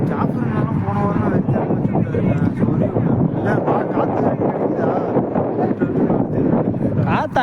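Strong wind buffets the microphone at an outdoor cricket match among friends, a steady loud rumbling roar throughout, with indistinct voices mixed in.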